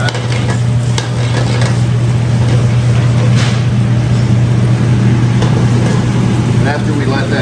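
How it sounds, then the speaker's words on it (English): Okra, kidney beans and onion frying in a heated pan, a steady loud sizzle with occasional stirring scrapes over a constant low hum, voices talking throughout. "So you heat up our pan, we're going to have our okra and our kidney beans in there, and our onion"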